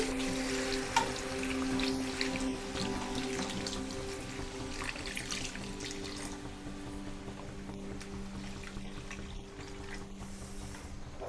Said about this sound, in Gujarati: તો હવે આપણે પાણી નાખી દઈને 10 મિનિટ ચડવા દેશું